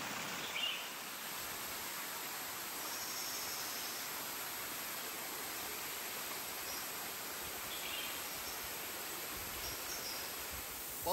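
Monsoon waterfall beside a rural road near Pune, pouring from a hilltop ridge in July rain: a steady, broad rushing roar that holds evenly throughout, with no voices.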